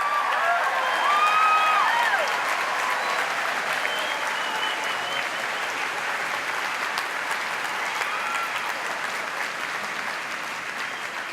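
A large graduation audience gives the parents sustained loud applause with some cheering, a dense wall of clapping that tapers slightly over about eleven seconds.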